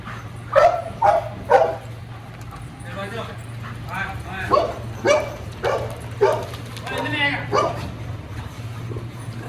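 Several dogs at a dog hostel give short repeated barks and yips with low growls between them, loud and close over a steady low hum, while someone talks to them.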